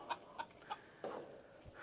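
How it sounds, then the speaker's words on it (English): Chickens and ducks gather at a water dish after eating, with a few short clucks spaced evenly at first, then a louder burst of bird calls and scuffling nearby. "The ducks and the chickens will just come over here and use this water"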